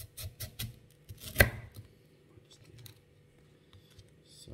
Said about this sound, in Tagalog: so we have to cut this way and okay, minced it